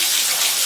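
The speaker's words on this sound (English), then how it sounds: "I feel like the water's loud." Bath water runs steadily into a tub during a baby's night routine, a continuous hissing rush of fairly loud water with no speech over it.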